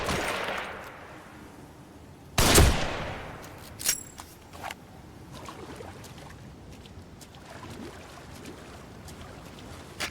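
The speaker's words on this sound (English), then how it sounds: "They're shooting. And yeah, shoot back." Gunfire in The Evil Within: a single loud shot stands out, followed by a few fainter, scattered cracks over low ambient rumble.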